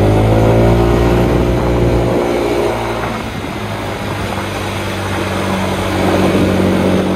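A Yamaha Gear utility scooter's small engine drones and rises in pitch as it accelerates uphill, loud and close, then eases and climbs again.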